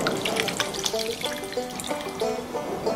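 Water runs or is poured at home while tubes are set into it for a hydrogel and diaper polymer experiment, a steady splashing stream with clinking and faint tonal ringing from containers, continuous and close.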